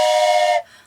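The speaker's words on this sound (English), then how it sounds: "I even have a train whistle." A toy train whistle gives one loud, steady, bright blast lasting just over half a second, then cuts off quickly.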